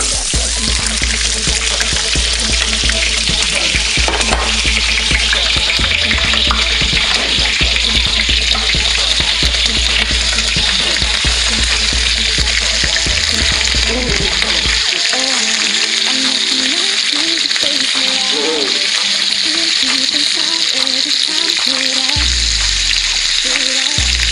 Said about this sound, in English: We're going to start off with the onions going in first, and it's going to be hot